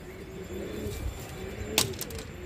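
Pigeons coo in soft, low, repeated phrases at a home loft, with a brief knock or clatter partway through.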